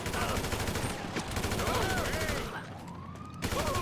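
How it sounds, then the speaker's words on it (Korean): Gunfire in GTA 5 as bodyguards are shot down: rapid bursts and repeated shots crack over a busy game soundtrack, with a brief lull before the shooting resumes. "이렇게 총 가지고 있는 걸로 얘네들을 쏴 죽여야 돼요."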